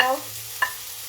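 Chili and coriander powder frying in a little oil over low heat, a soft steady sizzle with a brief sharp scrape of stirring partway through, close and fairly quiet.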